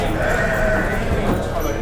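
Lambs bleat amid a noisy livestock market background, with voices mixed in over the short, busy stretch.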